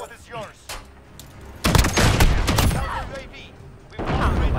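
Loud shotgun blasts from Call of Duty Modern Warfare gameplay boom in two bursts, a heavy volley in the middle and another near the end, with a voice talking faintly between shots.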